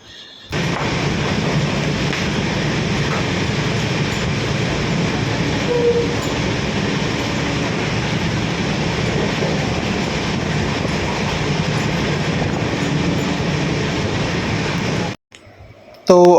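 Steady onboard rumble of the Uttarbanga Express passenger train running between Sealdah and Bamanhat, a continuous broadband roar with faint rail rattle lasting throughout before cutting off abruptly near the end.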